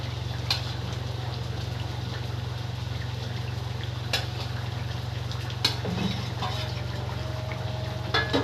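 Hilsa fish simmering in a curry with potatoes, a steady low bubbling and stirring hum with a few faint clinks and taps from utensils, close and fairly quiet, no talking.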